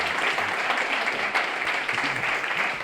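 A crowd at a fight-night press conference applauds a woman, a dense, steady wash of clapping that lasts throughout without a break.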